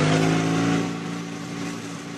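A motorcycle engine in a radio drama hums and revs with a steady mid-pitched drone that starts loud and eases off slightly, heard close and alone.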